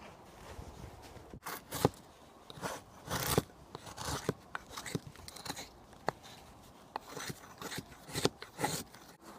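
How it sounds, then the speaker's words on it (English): A knife blade shaving a wooden bow drill hearthboard, giving a run of irregular close scraping and rasping strokes with sharp bursts, heard alone without talk. "So we're planing out the hearthboard a little bit."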